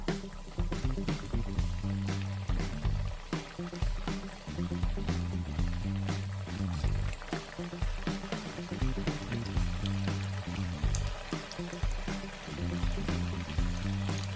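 Onion vadas fry in hot oil with a constant, busy sizzle and bubbling crackle, steady and close throughout, with no voices over it.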